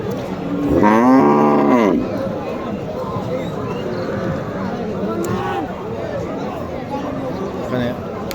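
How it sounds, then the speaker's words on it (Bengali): Cows moo at a busy cattle market in Naogaon, Bangladesh, where beef cows are sold: one loud, drawn-out moo rings out near the start over a steady murmur of crowd chatter and voices. "গরু দেখাই"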